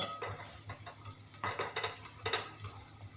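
Besan pakodas deep-frying in oil, a soft sizzle running underneath while a utensil stirs and taps against the pan in irregular bursts, close by and alone with no talk.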